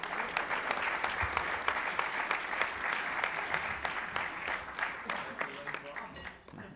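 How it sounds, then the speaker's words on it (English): Audience at a press club luncheon applauds with sharp, distinct claps, a full steady round that thins slightly toward the end; a faint voice may sit underneath. "Now you can applaud."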